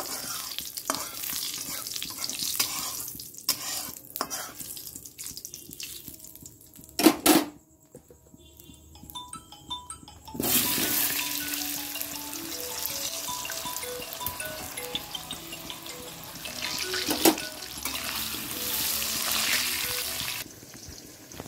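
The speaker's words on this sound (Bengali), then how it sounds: "এখানে দিয়ে দিলাম আলুটা ভাজবো, এর জন্য জিরে তেজপাতা শুকনো লঙ্কা দিয়ে দিলাম" Potatoes frying in hot oil with cumin seeds, bay leaf and dried chili in a home kitchen, a steady hissing sizzle with stirring clatter, a sharp clank partway through and a louder burst of sizzling that keeps going to the end.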